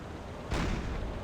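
A single deep blast bursts out halfway through, a low booming explosion from a naval battle in the submarine game Silent Hunter 4, rising sharply over a rumbling background and lingering as a dull roar.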